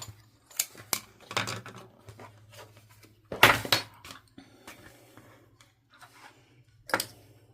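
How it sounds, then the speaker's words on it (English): Scissors snipping sewing threads in short, sharp, irregular clicks at close range, with metallic handling noises between the cuts and no talking. "Okay, cut these threads."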